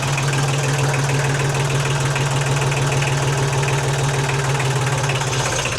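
A 35-year-old Kubota tractor diesel engine idles low and steady, a loud continuous rumble with a faint knocking pulse and no pauses.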